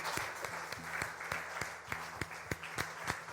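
A church congregation claps their hands in rhythm in place of instruments during worship, with steady, evenly spaced claps at a moderate pace, heard faintly and slightly distant against a low murmur of voices.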